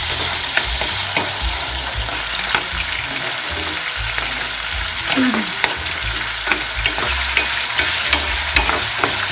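Pork sizzles steadily in a pan while being cooked for okra sisig, a dense close frying hiss broken by occasional stirring scrapes and taps.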